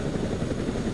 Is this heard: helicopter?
yes